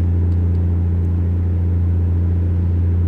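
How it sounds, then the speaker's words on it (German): A truck engine hums steadily in American Truck Simulator, a loud, continuous low drone with no talking. "ich muss die Motorsound zwar leiser machen, der brummt mir ein zurecht hier"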